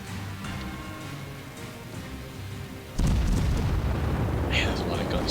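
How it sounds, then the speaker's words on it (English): Naval guns fire in World of Warships around a tier 7 Japanese cruiser, the Mogami, with a loud sustained barrage of booming shots that swells sharply halfway through and continues in a heavy rumbling roar. "Man, there's a lot of guns firing though."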